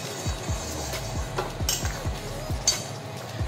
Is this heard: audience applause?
no